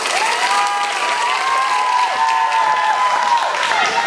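Wedding reception guests applaud in a loud, sustained burst of clapping and crowd noise, with a voice calling out over the top.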